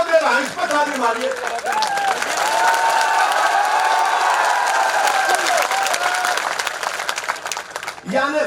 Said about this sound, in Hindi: इस पर ताली मारिए।